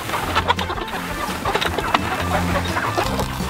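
A flock of farm chickens clucks and chatters continuously at close range, with repeated low clucks and scattered sharper calls over a busy outdoor background.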